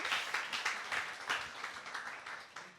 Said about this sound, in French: donc on peut s'applaudir